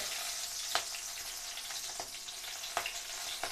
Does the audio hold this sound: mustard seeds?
yes